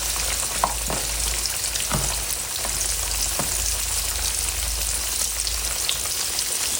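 Sweet potato yams fry in a pan with a steady, dense sizzle and crackle, punctuated by a few sharper pops, close up and uninterrupted.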